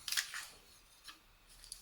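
Scissors snip through adhesive tape while making a card, two or three short crisp cuts close by, faint and with no voices.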